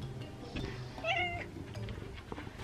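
A pet cat meows outdoors in a backyard, a clear drawn-out call midway through over faint background noise.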